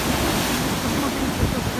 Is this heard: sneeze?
no